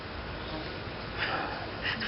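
A steady, dense buzz of many honey bees during an open hive inspection fills the clip, close and continuous, with a few slightly louder swells near the end.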